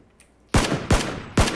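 Gunfire in the battle royale video game PUBG: Battlegrounds, three loud, close, sharp shots spaced a little under half a second apart after a quiet moment.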